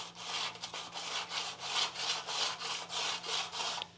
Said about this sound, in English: I'm just sanding across the top.